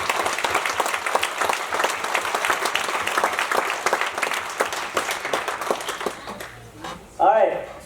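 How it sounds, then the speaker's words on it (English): A church anniversary crowd applauds, a loud burst of many hands clapping in quick, dense rhythm that thins and fades toward the end before a voice starts talking. "let's give a big round of applause for that"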